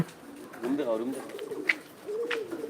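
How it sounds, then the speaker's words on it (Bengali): Fancy pigeons coo in low, rolling bursts at a pigeon farm in Biswanath, Sylhet, with a brief sharp click midway and a voice speaking nearby. "আসলে অনেক সুন্দর কবুতর এই জোড়া কবুতর আমার কাছে অনেক ভালো লাগে"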